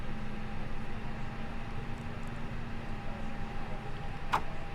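An A330-900 engine starting in Microsoft Flight Simulator, heard as a steady, loud turbine whine and broadband roar with a constant tone, holding evenly throughout, with a brief click near the end.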